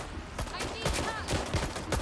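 Gunfire from suspects in the video game Watch Dogs Legion crackles in quick, uneven bursts of sharp reports, moderately loud, with faint voices underneath.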